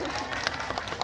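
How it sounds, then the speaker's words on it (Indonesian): A crowded religious gathering at a campus hall bursts into brisk, dense clapping with scattered individual claps popping out, and voices murmur underneath. "Itu tepuk tangannya paling banyak."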